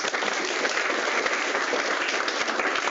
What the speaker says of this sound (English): let's give a round of applause of all the speakers